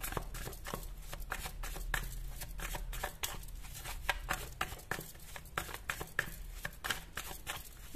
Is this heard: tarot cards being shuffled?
yes